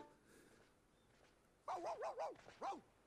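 A dog in the video game Kingdom Hearts 2 lets out a quick run of about five sharp, yappy barks after a quiet start, fairly close and clear.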